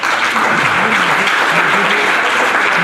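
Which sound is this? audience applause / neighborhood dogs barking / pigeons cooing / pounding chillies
audience applause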